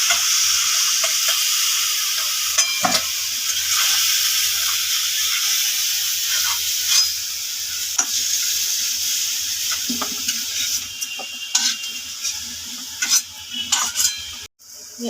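Chicken pieces fry in hot oil in a kadai, a loud continuous sizzle close by with occasional stirring scrapes and clinks, no voices.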